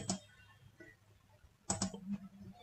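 A couple of quiet mouse clicks on a computer while working in a Microsoft Excel spreadsheet, one near the start and a firmer pair of clicks later, alone with no talk.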